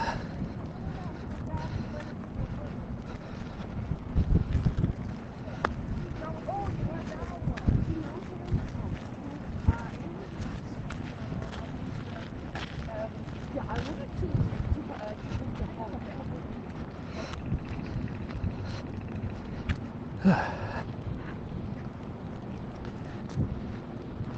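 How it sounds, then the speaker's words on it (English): Cold headwind buffeting a microphone on a walk from the Lincoln Memorial to the US Capitol: a steady low rumbling roar with gusty swells throughout, and a muffled voice now and then. "the wind is not at my back, the wind's in my face"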